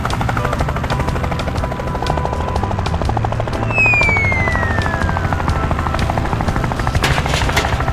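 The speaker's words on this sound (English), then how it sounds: "The helicopter quickly delivered the fully assembled greenhouse to the monkey." Cartoon farm game helicopter delivering a fully assembled greenhouse: a steady, loud rotor thrum with rapid chopping pulses throughout, plus a brief descending whistle midway.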